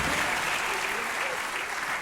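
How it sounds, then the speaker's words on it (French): Thunderous audience applause at a show's award ceremony, a dense, continuous wash of clapping that stays loud and even throughout with no voices on top. "Un tonnerre d'applaudissements, s'il vous plaît!"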